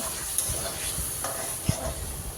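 Fish head and tail fry in a pan with onion and spices, a soft, faint sizzle with a few light stirring knocks, heard close with no talk.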